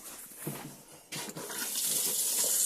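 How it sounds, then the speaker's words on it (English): Tap water runs from the onboard tank in a Hymer Nova 585 GL motorhome, a close steady hiss and splash that starts softly, jumps louder and keeps flowing with no talk. "open the taps, and you'll get water directly from the inboard tank"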